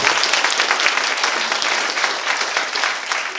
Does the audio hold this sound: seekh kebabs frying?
no